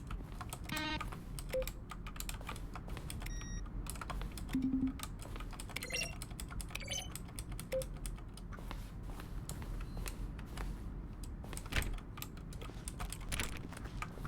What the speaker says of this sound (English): A section of sounds used throughout the game are button press. Each sound is a mix of a keyboard stroke and a...